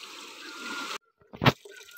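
Water flows in a broad, steady rush, then breaks off abruptly into near silence before a short loud splash and a softer trickling continues nearby.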